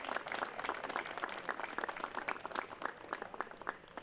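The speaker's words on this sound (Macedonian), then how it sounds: "Ве замолувам уште еден аплауз." Applause from the audience at an Ilinden holiday literary and arts event in Novo Selo, following a folk dance ensemble's performance: dense, steady clapping from a crowd, heard from a distance and fairly faint, continuing without a break.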